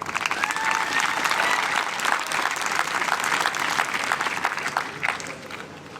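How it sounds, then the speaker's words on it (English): Audience applause for a taiko drum group at an outdoor peace ceremony in Ashland: a dense, steady wash of clapping from a sizable crowd that fades slightly at the end, with some voices mixed in. "Can we get another round of applause for Elbow Room Taiko?"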